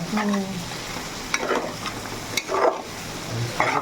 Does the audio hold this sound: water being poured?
no